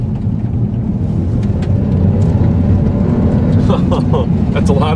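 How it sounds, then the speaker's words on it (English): A 2011 Volvo S60 T6 AWD accelerates on the road, its engine roaring loudly beneath heavy tire noise in a steady, dense rumble that swells slightly toward the end, heard from inside the car. "The engine is loud and the tire noise is loud."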